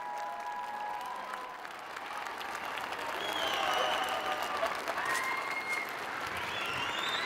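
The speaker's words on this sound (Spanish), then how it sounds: "El gran aplauso de la multitud que responde a la bendición del" A vast outdoor crowd applauds the Pope's Easter Urbi et Orbi blessing, a steady, distant roar of clapping that swells slightly midway and holds without any speech.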